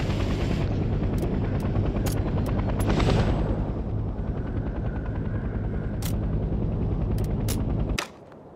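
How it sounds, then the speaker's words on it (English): Transport helicopter in the Vietnam War shooter Hell Let Loose Vietnam, its rotor and engine roaring loudly and steadily while lifting off, with sharp bursts of distant gunfire crackling over it before the sound cuts away near the end. "The helicopter will now take off automatically"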